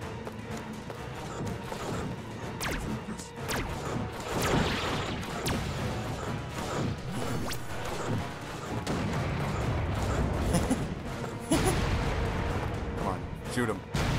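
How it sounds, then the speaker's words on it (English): Anti-tank guns and a heavy mortar firing in a video game battle, dense booms and thuds rolling continuously under other game noise, with a few sharper cracks standing out. "See how much damage these big anti-tank guns can do, coupled with the heavy mortar."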